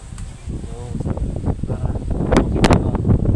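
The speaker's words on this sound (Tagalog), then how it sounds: "lakas mo ng hangin" Heavy wind buffets the microphone in a steady, rumbling roar that grows stronger toward the end, with a few sharp knocks and bumps, at the Caliraya skypod in Lumban, Laguna.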